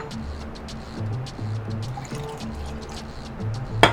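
Coconut milk and simple syrup ice pop mix poured into a mold: a soft steady liquid trickle and dribble close by, ending with a brief clink.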